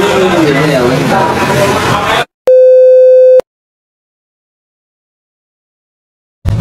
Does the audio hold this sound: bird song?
no